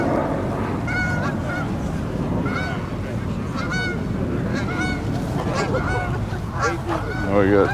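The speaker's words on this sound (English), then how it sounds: "We got geese flying through." Geese honking as they fly over wetlands beside a park car show, repeated nasal honks in an irregular chorus over a steady rumble of crowd and outdoor noise.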